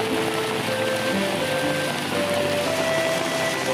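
Steady, dense rain falls in the Kalimantan rainforest, a constant close hiss of drops on foliage and surfaces with no voices.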